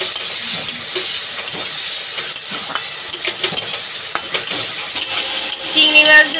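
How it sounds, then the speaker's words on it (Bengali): Shrimp fried in a pan with salt and turmeric, a bright continuous sizzle punctuated by repeated clinks and scrapes of a stirring utensil on the pan, growing busier toward the end. "অল্প একটু নুন, আর হলুদ দিয়ে নেড়ে চেড়ে হালকা করে ভাজবো"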